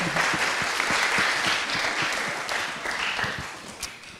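A crowd at an EdTech hackathon's final presentations claps for a presenting team, sustained applause of many hands that fades slightly toward the end.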